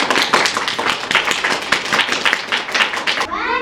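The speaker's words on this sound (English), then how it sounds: "one final round of applause" Young schoolchildren clap together in a classroom at a mountain school, a quick, fairly loud, uneven burst of hand claps that stops abruptly near the end.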